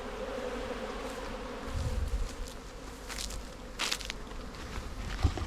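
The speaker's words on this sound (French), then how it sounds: "c'est la compétition entre plein d'abeilles qui sont toutes folles et qui viennent récupérer du miel" Many frenzied bees buzz around leftover honey near a forge, a busy insect drone with sharper close passes, a few soft crunching knocks, and rustling underneath.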